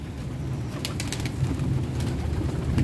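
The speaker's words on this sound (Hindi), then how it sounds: "वो कबूतर वो दाना खाने में मसरूफ हैं" Pigeons coo softly while feeding on grain amid a low rumble of outdoor noise, with a few faint flutters and scuffs scattered throughout.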